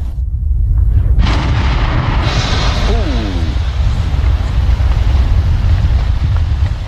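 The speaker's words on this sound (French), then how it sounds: "une autre explosion" A deep, rumbling volcanic explosion erupts with a sudden burst of noise, then a continuous low roar lingers while a voice speaks over it.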